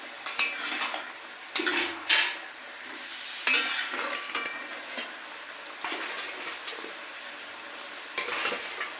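Cabbage and katla fish heads stirred in a metal pan, the spoon scraping and clanking against the sides in several bursts of activity, with short pauses between them and no voices.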